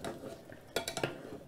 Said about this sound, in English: it's now boiling, and I want that, you just disturb it for a moment